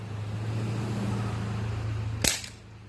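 An Umarex Ruger 10/22 air rifle fires a single sharp shot outdoors toward a steel target, a brief crack over a steady low hum of background traffic.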